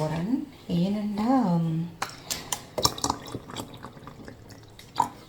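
Water is poured from a container into a pan, giving a run of splashing, trickling and dripping sounds close by after a voice speaks at the start.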